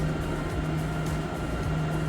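An electric car fast charger starts up at a roadside charging station, giving a steady, broad mechanical whir with a constant low electrical hum running through it at moderate loudness.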